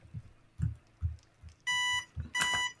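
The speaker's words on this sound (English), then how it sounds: "My alarm went off." An alarm clock goes off during a Battle of Port Royal session: two short bursts of bright electronic beeping near the end, after a few soft thumps, moderately faint and close.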